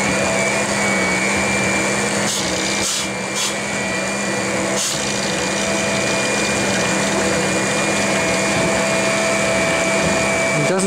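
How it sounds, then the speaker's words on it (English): Vapor blasting a zinc-plated steel handle at low pressure, with a steady, loud hiss and whine of the blast cabinet running throughout and brief dips where the spray stops for a moment. "Now I'm going to blast this under really low pressure."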